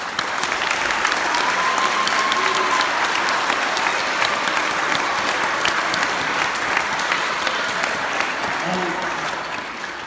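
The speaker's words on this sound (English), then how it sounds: "let's just start out first by giving a round of applause to all of our students." An audience at an elementary school spring band concert gives the students a loud, continuous round of applause, dense clapping with a few cheers that tapers slightly toward the end.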